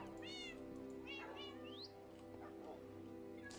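Several cats meow in the video game Minecraft, three or four rising, high-pitched calls in quick succession over a steady backdrop of game music.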